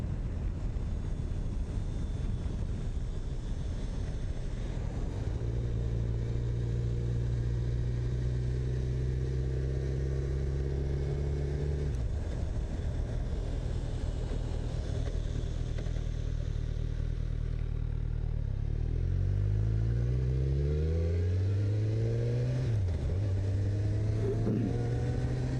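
Kawasaki Z1000 motorcycle ridden on an open, traffic-free road, with a continuous engine drone under wind noise that climbs through several gear shifts and rising revs, then dips and rises again near the end.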